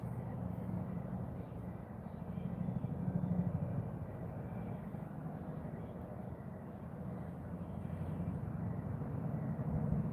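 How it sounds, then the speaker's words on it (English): A low, steady helicopter rumble drones in the distance throughout, slowly swelling and fading, with no one talking. "Sounds like that helicopter's coming back down this way."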